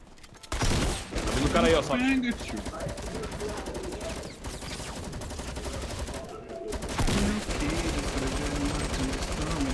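Rapid bursts of gunfire from two squads trading shots in Fortnite crackle steadily through the clip, dense and mid-distance, while players talk over the firefight.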